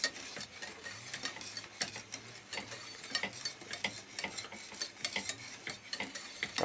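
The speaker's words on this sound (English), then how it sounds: "we will keep on stirring until it starts to thicken again" A spoon scrapes and taps steadily around a pot of thickening custard made with flour and egg yolks, cooking over medium heat for velvet pudding; brisk, repetitive clicks and scrapes over a faint simmering hiss, with no talking.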